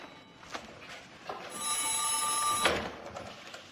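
An old telephone bell rings in a single sustained metallic burst amid soft background noise, with a few knocks before and after.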